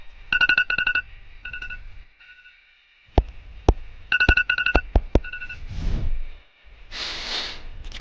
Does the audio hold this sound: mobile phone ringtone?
yes